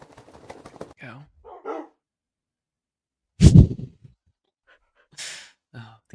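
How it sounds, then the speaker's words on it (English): Dogs bark in a video game: a single loud, close bark stands out amid sparse, quiet sounds, with a few short vocal noises and breaths around it. "Oh, these dogs are so silly."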